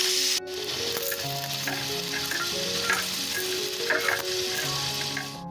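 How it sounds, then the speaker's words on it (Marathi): Grated coconut roasting in a little oil in a pan, with onion added for a Maharashtrian dal amti masala, gives a steady, close sizzle with soft stirring scrapes, while background music plays throughout. "खोबरं भाजत आलं की कांदा देखील यामध्येच घालूयात"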